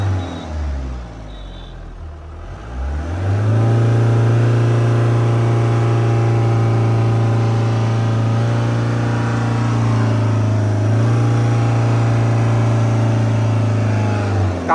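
A Mahindra Arjun Novo tractor engine idles, then climbs into a steady, loud drone as the revs rise and hold, with a deep low rumble and a faint reduction at the start, and no voices.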